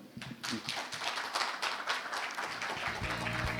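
A conference audience applauds after a keynote at a local public enterprise CEO forum, a dense, steady round of clapping from many hands that swells quickly and holds until the end.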